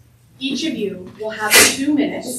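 A single sharp sneeze bursts out in a workshop room, close and loud, while a presenter speaks to the audience before and after it.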